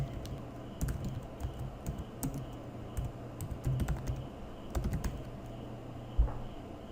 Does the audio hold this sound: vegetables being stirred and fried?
no